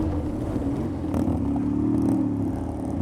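A motorcycle being ridden, its engine humming steadily nearby with a slight rise in pitch midway, no talking over it.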